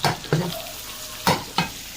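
Meat being broken up and browned in a hot pan, a steady close sizzle with several sharp scraping stirs of a utensil across the pan, and no talking.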